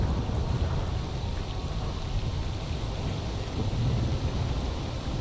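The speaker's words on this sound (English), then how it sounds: "Did I spawn during like a storm?" Steady, dense rain with a low thunderstorm rumble fills the whole stretch in the S.T.A.L.K.E.R.: Anomaly game world, loud and continuous with no speech over it.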